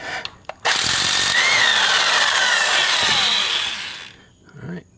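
A power tool spins out a brake caliper bolt on a 2011 Cadillac Escalade during a front brake job, a loud continuous whirring burst of about three seconds that cuts off abruptly, with brief clatter before and after.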